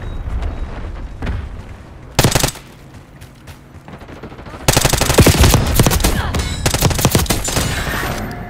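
Call of Duty gunfight with a frag grenade and rocket launcher: heavy sustained automatic fire and blasts, a sharp burst near two seconds, then a dense, loud barrage of shots and explosions from about five seconds on.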